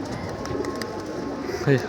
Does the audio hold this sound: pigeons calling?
yes